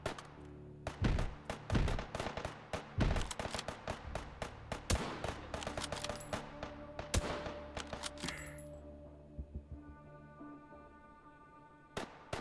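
Gunfire rings out in the VR shooter Hot Dogs, Horseshoes & Hand Grenades on a custom city map: irregular sharp cracks and short bursts, some loud and close, others fainter, thinning out into a quiet tail.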